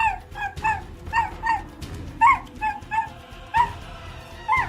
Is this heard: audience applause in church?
no